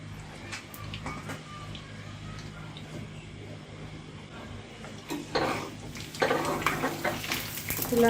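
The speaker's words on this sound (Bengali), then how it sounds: "তেলটা গরম হয়ে গেছে এখন আমি অল্প করে আলুগুলো ভেজে দেব" Potato sticks for French fries going into hot oil, a low bubbling that swells into loud, crackling sizzle with clattering bursts as more pieces are dropped in and stirred.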